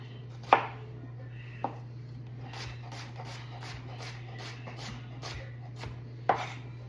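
A knife dicing vegetables on a cutting board, giving sharp isolated thunks at first and then a quick, even run of about a dozen light taps, close and clear over a low steady hum.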